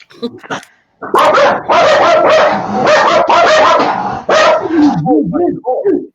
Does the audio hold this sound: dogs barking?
yes